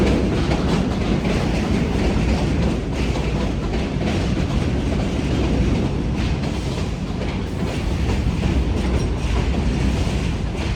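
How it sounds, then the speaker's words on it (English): A train rumbles past steadily and loudly, wheels clattering on the rails in a continuous roar with no break for the whole stretch. "let the train go by"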